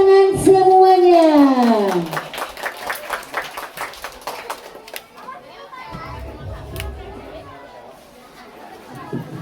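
Children's dance performance at a school graduation celebration opens with children singing, then a burst of clapping from the audience with lively chatter, fading into softer crowd noise.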